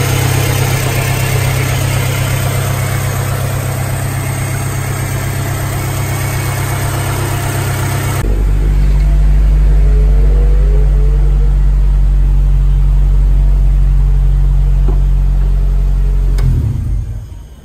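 Right-hand-drive Honda Del Sol engine running in a shop just after starting, loud and steady with a deep hum that grows heavier partway through, then cuts off abruptly near the end.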